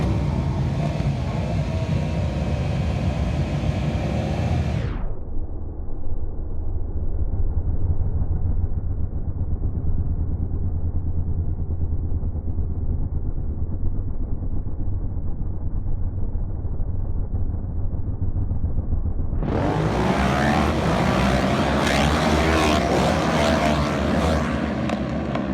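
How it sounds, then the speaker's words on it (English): Racing motorcycles in a mini twin race at Snetterton roar past loudly at the start, fade to a distant drone in the middle, then swell back to a close, full-throated roar. "Will's just heading out for the first race of the day. It's a mini twin race"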